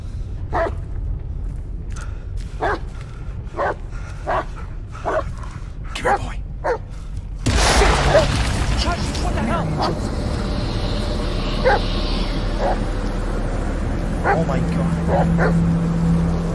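In the Blair Witch video game, a dog gives a regular series of sharp barks, then whimpers and yips more faintly beneath a low rumbling game soundscape, while a player talks over it.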